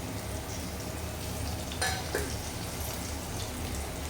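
Oil sizzles steadily in a pan with sliced bitter gourd, a low continuous frying hiss with a couple of brief sharper crackles midway, moderately quiet and close.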